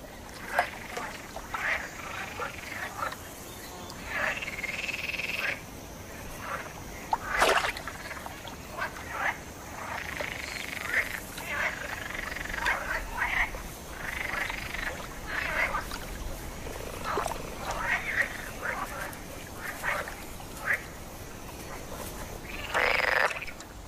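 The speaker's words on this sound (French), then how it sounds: "Ces inlassables choristes sont des grenouilles vertes, des mâles en quête d'une partenaire." A chorus of male green frogs croaks steadily throughout, with overlapping calls from several animals in a pond, some near and loud, others farther off.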